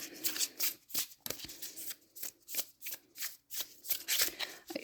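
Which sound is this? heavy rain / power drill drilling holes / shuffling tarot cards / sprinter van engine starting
shuffling tarot cards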